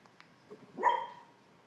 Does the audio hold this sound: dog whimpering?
yes